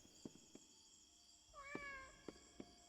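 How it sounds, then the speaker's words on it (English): A cat meows once in a drawn-out, rising-then-falling call amid a few soft knocks and taps, quiet and indoors with no talking. "Who meowed?"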